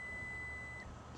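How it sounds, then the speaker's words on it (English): Electronic beeps from the power rear liftgate of a 2023 Acura MDX Type S as its height setting is saved, a steady tone over a low background hum. "hold this button down until you hear the beeps"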